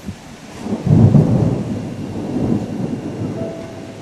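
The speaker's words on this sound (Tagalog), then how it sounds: "Lakas ng hangin. Sobrang lakas." Strong storm wind roars with deep rolling thunder and steady rain, swelling loudest early on then holding as a continuous rumble, with no voices.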